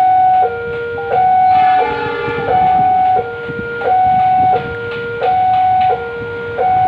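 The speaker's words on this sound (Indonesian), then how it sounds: "itu dia kereta apinya." At a level crossing in Cirebon, a loud warning signal alternates steadily between two tones, over a low rumble of a passing train and traffic.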